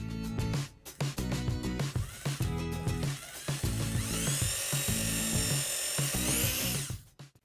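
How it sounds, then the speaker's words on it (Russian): A small high-pitched drill with a thicker bit whines steadily for several seconds while drilling a bead for fishing tackle, pitch rising as it bites, then cuts off near the end; close and loud. "Попробую просверлить более толстым сверлом."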